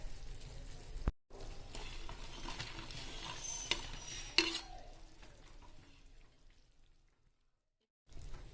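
Pakoras are added to a simmering yogurt curry (dahi pakori kadhi) and stirred, making soft wet bubbling and stirring scrapes with a couple of light clinks, fading to quiet near the end.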